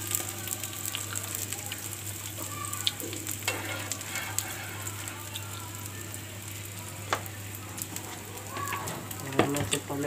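A gobhi paratha frying in ghee on a pan gives off a steady, soft sizzle throughout, with occasional faint clicks and scrapes, fairly quiet and close.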